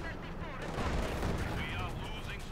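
Battle gunfire in the strategy game Company of Heroes 2, a dense, continuous wash of shots and explosions rumbling under a commentator's voice, moderately loud throughout.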